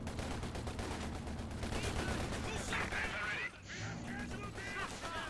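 Sturmgewehr rifles firing in Company of Heroes 2, dense rapid gunfire over a constant battlefield din, with brief bird-like honks mixed in.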